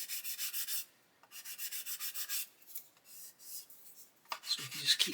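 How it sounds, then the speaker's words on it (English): Sanding a plastic panel on an Airfix 1/72 Lancaster B.III Dambuster model kit, a series of quick rhythmic rasping back-and-forth strokes in short bursts, close and fairly quiet, ending in a few handling clicks. "So we can just keep sanding that"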